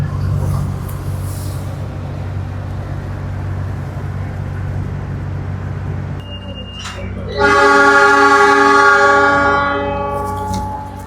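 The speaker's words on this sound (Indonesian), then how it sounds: "Kereta api Pangrango diberangkatkan dari stasiun Bogor Paledang" The Pangrango executive-class train departs Bogor Paledang station with a low rumbling idle, then a short horn toot and a loud, sustained rising whine as it moves off, heard from on board.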